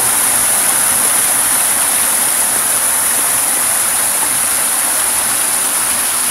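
A park waterfall in San Pedro, California pours in a steady, loud broadband rush that holds unbroken throughout, with no voices over it.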